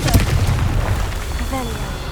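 A heavy, booming blast from the Bombarda blasting spell in the video game Hogwarts Legacy, loud and close, with a rumbling low tail and brief tonal effects near the end.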